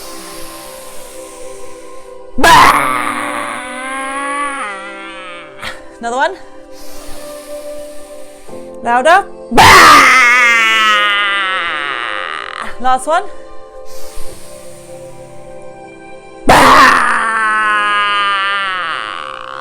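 Deep, forceful breaths taken by a group during a breathing exercise at a school assembly, three loud bursts with a leader talking between them.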